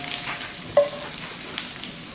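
Andouille sausage frying in a pan gives a low, steady sizzle with a single sharper clink or scrape partway through, fairly quiet and with no talking.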